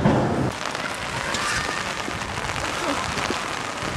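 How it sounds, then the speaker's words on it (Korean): Steady rain falls on a street in Vicenza, Italy, a dense, even hiss of drops spattering hard surfaces nearby, continuous for the whole stretch with faint indistinct voices mixed underneath. "비가 오는 날이라서."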